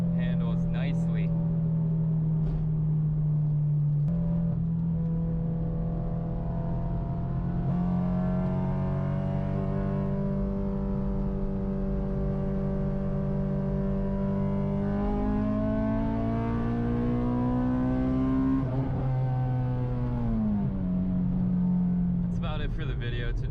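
An Acura RSX-S with bolt-on modifications driving along rough back roads, its engine note rising and falling through gear changes at moderate throttle, heard steadily from inside the car.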